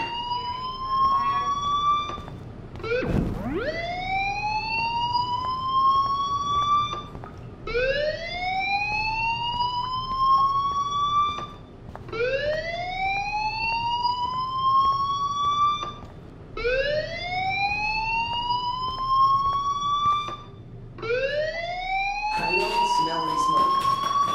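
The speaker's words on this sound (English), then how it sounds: "Hey, do you hear that fire alarm?" A fire alarm in the video game Life is Strange, a loud repeating electronic whoop that sweeps upward in pitch about every four seconds and runs continuously and close.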